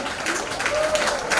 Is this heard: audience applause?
yes